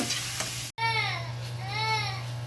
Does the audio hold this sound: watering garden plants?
no